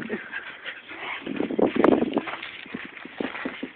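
A dog whimpers in short, thin, high cries that rise around the middle, over soft shuffling and paw movement close by.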